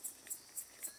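Crickets chirping at night in the countryside of Minas Gerais, a rural family farm, four evenly spaced high, bright trills at a steady pulse, fairly faint and alone in an otherwise quiet setting.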